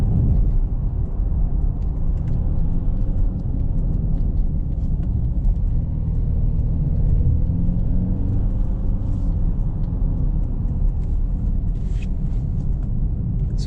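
A Genesis GV70 AWD diesel SUV taking a corner, heard from inside as a steady, loud low rumble of road and engine noise with a continuous whir and no speech.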